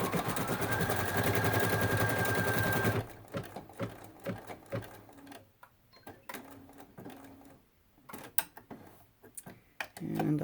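An embroidery machine stitches a cut work design in a hoop, its dense, steady mechanical whir loud and continuous for about three seconds before stopping, followed by quieter scattered clicks and handling noises.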